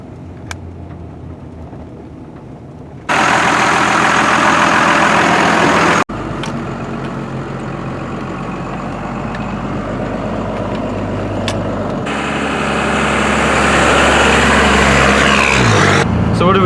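A 1992 first-generation 12-valve Cummins diesel pickup idles with a steady, heavy low-pitched clatter that cuts in and out in sections, loud and close, after a quieter opening stretch.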